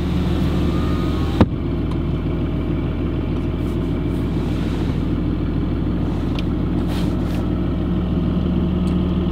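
A Ram truck engine idles steadily with the clutch out, heard from inside the cab as a loud, even low drone with an audible rolling rattle. A sharp click comes early, then a window closes and the sound gets more muffled.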